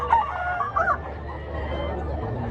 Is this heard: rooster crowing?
yes